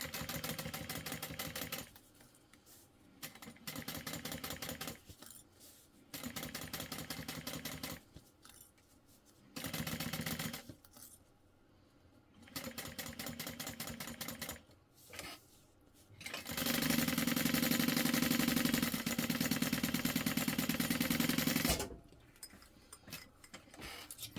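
A sewing machine top-stitching a handbag runs in repeated bursts of rapid mechanical stitching separated by pauses, with one longer continuous run near the end.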